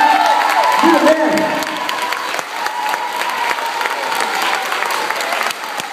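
An audience claps at a school award presentation for a fifth-grader's anti-violence art contest win, fairly loud and steady, with some crowd voices and cheering mixed in.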